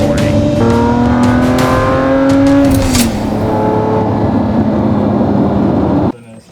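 A Lamborghini Murciélago 580 V12 engine idles loud and close, revving up to a rising whine, then settling back to a steady idle before cutting off abruptly near the end.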